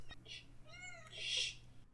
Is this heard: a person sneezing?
no